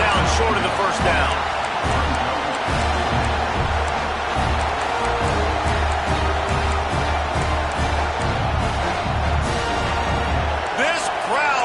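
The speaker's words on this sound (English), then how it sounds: "This crowd busting the decibel meter and trying to will a 4th down stop." Crowd roaring in a Penn State vs Wisconsin college football video game, a loud sustained stadium din with rhythmic stomping and cheers, with commentators talking over it.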